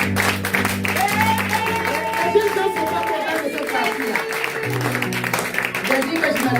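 A church congregation cheers and claps for Jesus during a service, steady applause running throughout alongside sustained musical tones and mingled voices.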